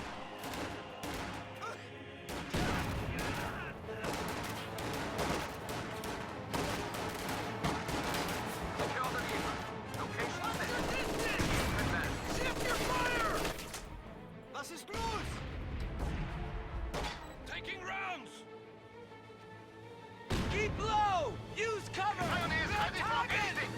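Gunfire and rifle grenades in a video game battle around a forest and house, with dense bursts of rifle and machine-gun fire, heavy explosions and crashes that keep up almost throughout, briefly dropping off before resuming.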